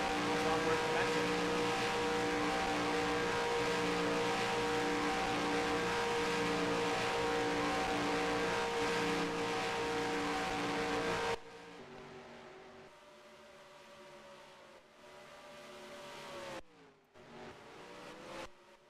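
Stock cars droning around Daytona during practice in NR2003, a loud steady multi-car engine roar that drops abruptly to a quieter single engine revving and shifting, with a commentator talking over it.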